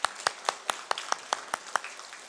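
A church congregation claps in celebration, about a dozen crisp, rhythmic claps in near-unison, fairly close and clear, tapering off at the end.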